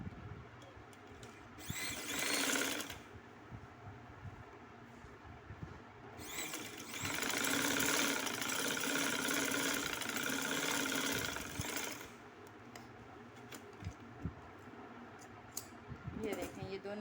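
Sewing machine stitching the side seams of a skirt: two stretches of steady motor whir, one short and one longer, rising out of a quieter background with rustling and handling between them.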